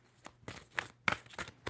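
Tarot cards riffled in a quick shuffle, several soft papery bursts at close range, fairly quiet, with no talk over them.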